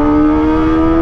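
Kawasaki ZX-25R motorcycle fitted with an Arrow Pro Race exhaust holding a steady, high-pitched rev, a loud and close buzzing tone with no break across the short moment.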